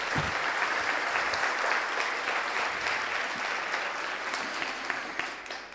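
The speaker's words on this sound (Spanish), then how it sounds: "Dele un aplauso a Jesús por eso." A church congregation applauding at a pastor's sermon, a sustained wash of many hands clapping together, steady and fairly loud, easing off slightly toward the end.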